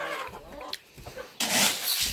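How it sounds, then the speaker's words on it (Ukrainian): Young chicks being herded in a backyard run cry in shrill, continuous squeals, rising to a loud burst of screeching near the end, close by with no talk over them. "Так верещать, ви чуєте, як кричать? Курчата, це капець."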